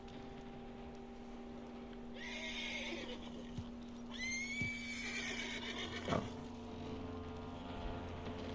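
A horse in the Red Dead Redemption 2 video game whinnies twice in long shrill neighs, with a few hoof knocks and a steady low hum of game ambience, no speech.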